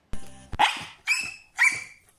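A rescue dog barks three times close up in loud, rising, yodel-like calls, preceded by a brief buzzy rattle, with no talk during the barks.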